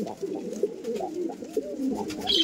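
A master pair of silver Siraj pigeons coos close by in a loft, with repeated soft, throaty, rolling coos in an unbroken flow over quiet background noise.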